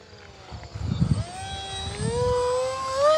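An FMS Flash 850mm RC jet plane streaks past at speed, its high electric whine rising and bending in pitch as it passes, with a few low thumps near the start.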